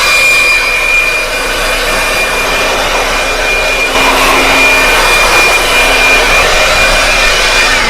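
A Wadfow 20V 4.0Ah cordless blower running at high speed, a loud, steady close-up roaring whoosh with a constant whine, the airflow swelling slightly midway, with no speech.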